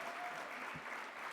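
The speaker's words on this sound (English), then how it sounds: "One more round of applause for Darius, a legend in the making" Soft, distant applause hums briefly from the audience at the 2023 National Mentoring Summit, a low, even wash of clapping with no distinct individual claps.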